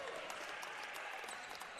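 Crowd at a basketball game between RMIT University and Shepparton cheering and screaming after a made shot, a loud, dense roar holding steady for the whole moment.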